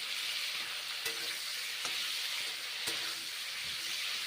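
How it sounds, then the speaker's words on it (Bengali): Pointed gourd pieces frying in hot mustard oil, a steady broad sizzle with a few sharp stirring clicks against the pan, close and continuous. "সর্ষের তেল দিয়েছি ভেজে নিচ্ছি"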